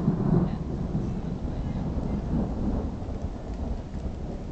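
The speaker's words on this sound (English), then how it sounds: "It's raining now." Thunderstorm with a deep, continuous rumble of thunder over steady rain, loud and enveloping, with low rolling booms throughout.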